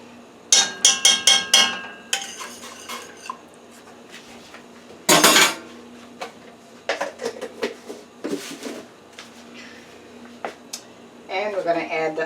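Garlic paste in a pot gets stirred with sharp metallic clinks and scrapes from a utensil in short bursts, some rapid rattling runs between quieter gaps, close by.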